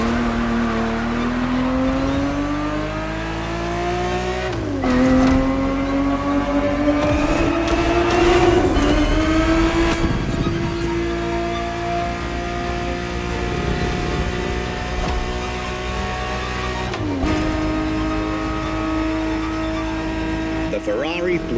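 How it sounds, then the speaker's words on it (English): A 1970s Ferrari 365 GTB4 racing in The Crew Motorfest, its engine loud and close, rising in pitch through repeated gear shifts with sharp drops between them, and brief tire noise. "The Ferrari 365 GTB4 is the perfect vehicle for you to experience Ferrari racing as it felt back in the 70s"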